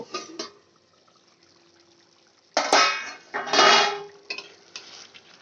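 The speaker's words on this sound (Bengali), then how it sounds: "পাঁচ মিনিট হয়ে গেছে এবার আমি ঢাকনাটা তুলে দেখে নেব" A lid comes off a pot of cooking chicken with a clatter of metal and a brief burst of bubbling and hiss from inside. Quiet gaps fall between the louder knocks and scrapes.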